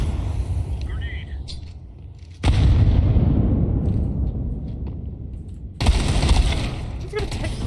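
A grenade bursts in Counter-Strike 2 with a loud, broad blast, then a second blast follows a few seconds later, each trailing into rumbling decay against steady wind.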